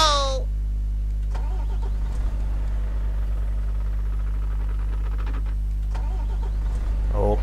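Hino 500 truck with a weak battery cranking and starting, followed by a deep steady diesel idle, with a person talking briefly near the start and end.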